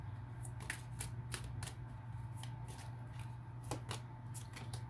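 Tarot cards are shuffled and drawn in a quiet room, with a run of soft, quick riffling flicks and slaps over a low steady hum, fairly faint and close.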